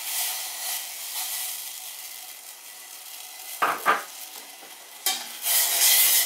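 Sugar and water stirred in a bowl for syrup, faint swishing followed by a few sharp scraping strokes of a utensil against the bowl, close, with a louder hissing stir near the end.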